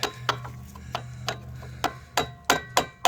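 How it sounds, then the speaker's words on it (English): Sharp metallic hammer strikes on a screwdriver, driven to pry a stuck brake line clip loose on a 2004-era Suzuki Forenza, ring out about ten times at uneven intervals, close and loud, over a low steady hum. "I was using a screwdriver and taking a hammer and hitting it."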